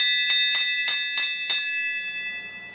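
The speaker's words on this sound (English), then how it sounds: "But anyways, ring the bell." A bright bell is struck five times in quick, even succession, each ring sharp and close. A clear sustained tone decays after the last strike.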